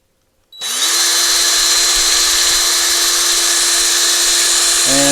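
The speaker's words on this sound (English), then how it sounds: "let the drill do the work" A power drill spins up abruptly after a brief silence and holds a loud, steady high-pitched whine until the end, clearing the flint tube of a Barlow B-15 lantern.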